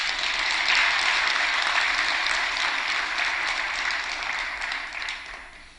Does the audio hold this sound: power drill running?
no